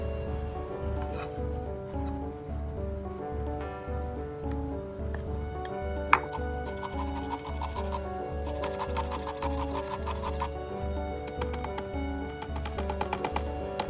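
Fresh spinach being finely chopped with a knife on a cutting board: a steady, rapid run of close, crisp rhythmic chops that continues throughout with no talking.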